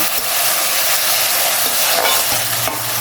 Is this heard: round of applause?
no